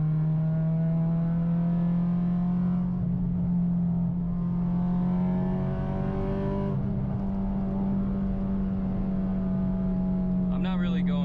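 A bolt-on Acura RSX-S drives along back roads with a steady engine drone that rises and eases as it shifts, heard from inside the cabin.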